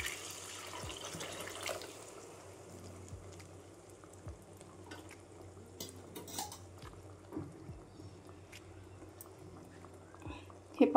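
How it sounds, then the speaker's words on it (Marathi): Water is poured into a simmering chana dal and bottle gourd gravy in a cooking pan, giving a soft, steady splashing that is loudest in the first two seconds. Occasional utensil clinks and a person talking run over it. "आता ग्रेव्हीमध्ये आहे ना आपण थोडं पाणी टाकू"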